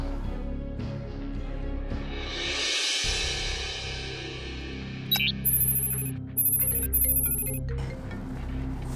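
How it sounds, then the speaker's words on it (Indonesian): A telephone ringtone in an Indonesian drama scene sounds as rapid, high-pitched pulsed bursts in two runs during the second half, over steady background noise. "Ada telepon nih."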